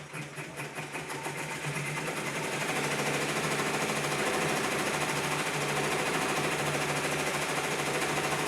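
Embroidery machine stitching an appliqué onto a black shirt, a steady loud mechanical whir with rapid rhythmic needle chatter running continuously up close.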